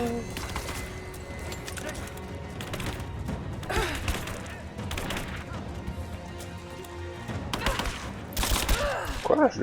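Gunfire rattles through a firefight in the video game Rise of the Tomb Raider, with bursts and single shots in the catacombs, thuds and echoing impacts under shouted voices and game music.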